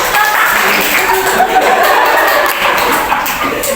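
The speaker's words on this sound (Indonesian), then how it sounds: "Tepuk tangan dong" Workshop audience in a school leadership training session clapping together, a dense, steady patter of applause lasting a few seconds, mixed with light chatter and chuckles in the room.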